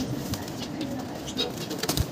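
Pet finches in a home cage make brief light chirps and flutters mixed with soft rustling and scratching, fairly close, without speech.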